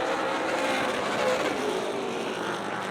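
ARCA Midwest Tour race cars at Rockford Speedway during the All-Star 100, engines roaring together in a continuous, moderately distant drone as the field circles the short track.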